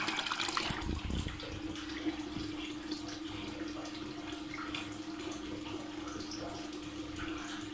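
Rinse water bubbling up through each level of a single-stage pálinka still column during washing, a faint, continuous gurgle and trickle with a steady low hum beneath it.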